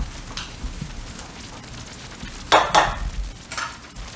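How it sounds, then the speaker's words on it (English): Potatoes are stirred in a pan as baked garlic chicken is being cooked. Soft scraping and shuffling sounds sit over a faint sizzle, with a couple of louder, close stirring scrapes near the middle. "now we're going to come over here and kind of stir these potatoes up a little bit"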